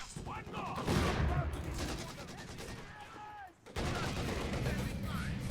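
Gunfire and mortar blasts from Company of Heroes 2, a dense, steady rattle of shots and explosions running nearly throughout, with a brief drop in the middle before the barrage resumes.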